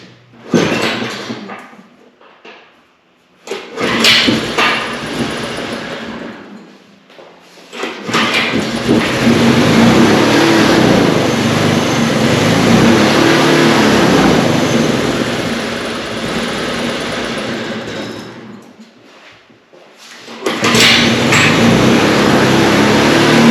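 A Coleman Powermate generator is cranked with the choke on. Its engine catches and runs loud and rough for several seconds, then sags, nearly dies and roars back up. There is no talking.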